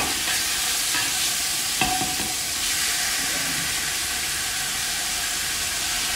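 Tofu and pork sauté in a pan with a dense, steady sizzle and hiss, near and even, with one clear clack of a utensil against the pan early on.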